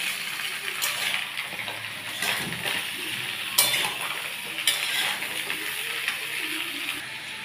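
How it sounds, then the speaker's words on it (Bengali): Chunks of potato and pointed gourd stirred and fried in a pan, giving a steady sizzle broken by repeated scraping and clattering strokes of the spoon, close and moderately loud. "এবার আমি এটাকে একটু ভালো করে নাড়াচাড়া করবো, ভাজা ভাজা যাতে হয়ে যায়।"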